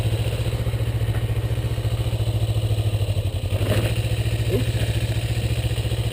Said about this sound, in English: You hear that rattling sound?